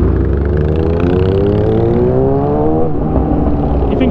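A cruiser motorcycle engine revs loudly up close, its deep rumble climbing steadily in pitch, then dropping back as the throttle eases off, with no talking over it.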